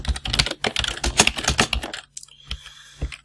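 Rapid typing on a computer keyboard while writing code on a Raspberry Pi, a close, busy run of clicky keystrokes that pauses briefly before a few last taps, with no talking.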